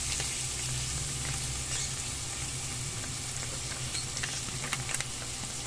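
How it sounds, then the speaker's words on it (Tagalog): Tomato sauce hitting sizzling spaghetti sauce in a pan, producing a dense, loud, continuous frying hiss with crackling pops near the end and no voices. "Lagay na po natin itong ating tomato sauce."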